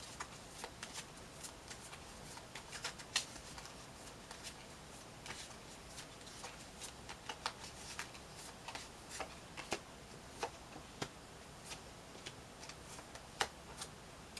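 Tarot cards are shuffled and handled close by with soft, faint riffles and papery ticks. The scattered taps fall irregularly across a quiet room.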